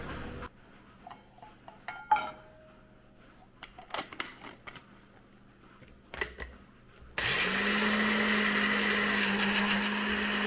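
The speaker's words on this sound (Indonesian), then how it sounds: "Nah, ini kelapanya. Kita halusin dulu ya, kita giling ya." Coconut ground in a kitchen blender for laksa, with a few clinks of utensils and dishes first, then a loud steady motor whirr that starts abruptly and runs to the end.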